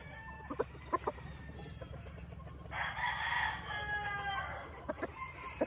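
A rooster crows once in a long, strained call, with scattered clucks and clicks around it in a quiet yard.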